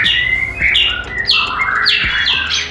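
A caged Javan pied starling chirps repeatedly at close range, with sharp rising and falling calls in quick succession.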